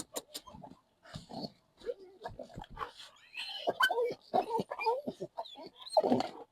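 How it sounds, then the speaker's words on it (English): Dog on a path making snuffling whimpers and short grunting yelps up close, with people talking nearby. "This cannot be a stray dog."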